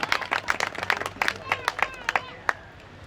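Crowd at a cricket final clapping to welcome a guest, scattered individual claps that come in uneven bursts and thin out toward the end, with murmuring voices underneath.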